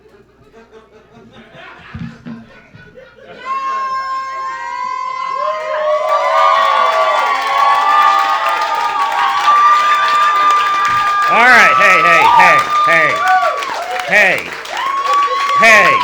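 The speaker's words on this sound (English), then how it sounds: "stop applauding or I will pass the fuck out" A comedy show audience at a naked comedy performance bursts into applause, cheering and whoops that swell and stay loud, with someone speaking briefly near the start before the crowd noise takes over.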